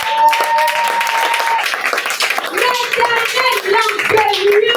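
A church congregation claps together in praise to acclaim the Lord, the rhythmic, lively applause mixing with voices and musical tones in a reverberant hall.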